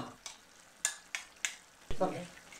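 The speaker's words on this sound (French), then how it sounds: "Elle mélange pour avoir une préparation à peu près homogène." A sauce preparation being mixed in a bowl, four or five distinct scraping strokes spaced through the clip, fairly close and moderately loud, with a little background noise.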